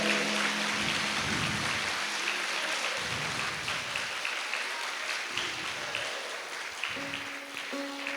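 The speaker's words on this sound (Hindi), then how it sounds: "एक बार सभी रोहतास जिला संत समाज के लिए तालियों की गड़गड़ाहट करें।" A gathering of a Rohtas district saints' community at a riverside satsang breaks into sustained applause, a broad hissing wash of many hands that holds steady and slowly eases, with faint tonal sounds drifting in beneath.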